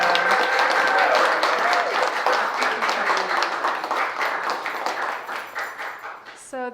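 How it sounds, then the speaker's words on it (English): An audience at a poetry salon breaks into sustained applause that is loud at first and gradually thins out, with a few whistles over the clapping. "Can we get a round of applause"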